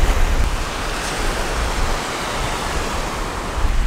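Ocean waves wash steadily onto a beach, a dense, continuous surf roar with slight swells at the start and end, close and fairly loud with no voices.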